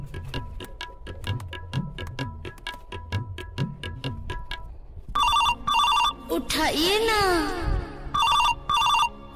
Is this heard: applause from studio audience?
no